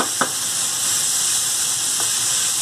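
Butter sizzles steadily in a pan over vegetables as a dish of spinach lasagna gets started, a continuous close frying hiss with a couple of faint clicks and no talking.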